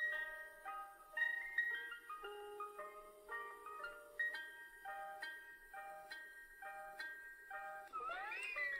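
A thin electronic ice cream truck jingle from the game Free Ice Cream plays alone, a bright repeating melody of clear beeping notes at a steady pace, ending with a short rising warble.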